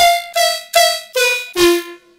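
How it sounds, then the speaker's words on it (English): A bright, buzzy synth lead plays five sustained horn-like notes with short gaps, stepping down in pitch, loud and alone. "we're going to be showing you guys how to make this weird lead thing that sounds like this"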